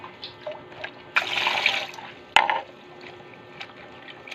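Fish being washed under running water, with faint drips and splashes, then a louder burst of flowing water and a sharp clatter partway through, quieter trickles after.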